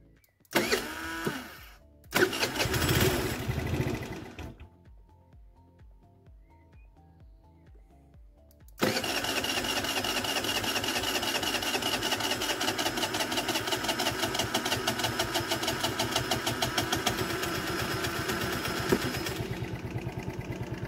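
A small 25 km/h scooter engine sputters, cuts out, then starts and settles into a loud, steady, rattling idle that keeps running to the end.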